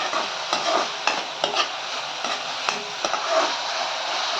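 Mushroom fried rice with soy sauce stirred in a hot pan, with a steady sizzle under repeated spoon scrapes and knocks, close and fairly loud, and no talk.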